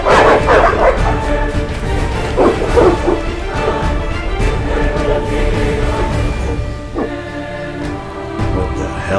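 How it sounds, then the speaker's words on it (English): Several dogs bark loudly and continuously in the prologue of The Witcher Enhanced Edition on PC, a close, dense run of barks and yips with occasional crashing noise mixed in. "The dogs will tear her apart."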